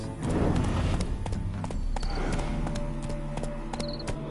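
Horse hooves clip-clop steadily with a brief whinny in The Witcher video game, set against a busy game soundscape with music-like tonal layers; no talk.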